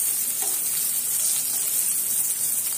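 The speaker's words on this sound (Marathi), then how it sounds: "कधी पण मच्छी फ्राय ही लोखंडाच्या कढईवर करायची, छान फ्राय होते ती" Pomfret fish frying in oil in an iron wok, a steady close sizzle that holds at an even level throughout with no talk.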